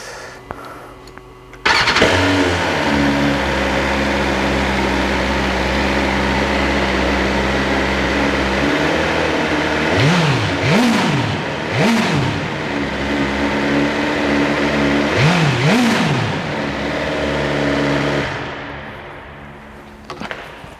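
A BMW S1000R motorcycle with an Arrow Pro Race titanium exhaust starts and idles loudly in an echoing garage, then is revved in several sharp bursts, its pitch rising and falling each time.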